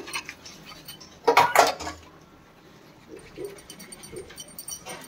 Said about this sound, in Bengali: মেজে দিচ্ছি বাসন।